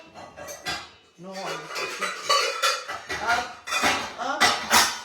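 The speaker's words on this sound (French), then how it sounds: "Je vais prendre une casserole" Metal pots and pans clank and rattle loudly as a saucepan is pulled out in a home kitchen during cake making, several sharp knocks and scrapes mixed with a person talking.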